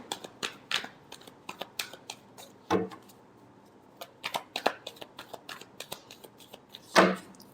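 Tarot cards being shuffled by hand close up, a rapid series of crisp riffling and flicking bursts with a couple of louder slaps, no voices.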